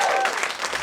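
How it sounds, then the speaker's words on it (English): Applause at a live event, a broad, steady wash of clapping with no gaps, kept up from start to finish. "Round of applause"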